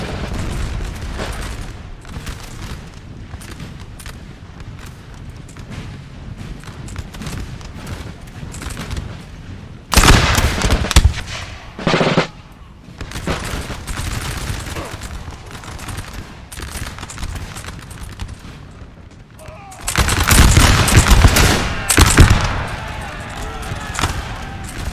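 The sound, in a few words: musket gunfire from infantry in Napoleon: Total War video game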